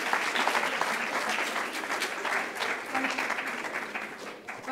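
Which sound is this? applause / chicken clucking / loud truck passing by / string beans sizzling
applause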